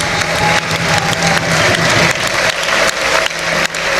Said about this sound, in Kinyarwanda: Tugukomeye amashyi